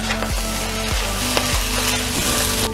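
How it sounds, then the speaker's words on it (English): Soy sauce hits a hot, sizzling pan of chicken fried rice while a utensil stirs it, scraping the pan in steady strokes about every half second under a continuous loud sizzle. "now I'm gonna just add the rest of that soy sauce"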